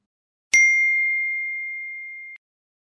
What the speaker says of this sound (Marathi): Wow, 7 new notifications.